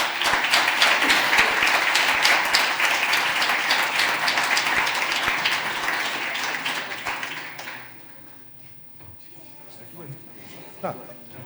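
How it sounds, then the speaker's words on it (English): Sustained audience applause at a finance research competition award ceremony in a hall, dense and steady for about seven seconds before dying away, with scattered voices and a few late claps after. "Good applause."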